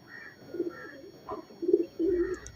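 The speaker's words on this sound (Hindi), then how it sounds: "ये देखें ज़रा कबूतर, ये हैं बाजी में कबूतर" Racing pigeons cooing nearby, several soft, low, throaty coos in a loose rhythm over a quiet background.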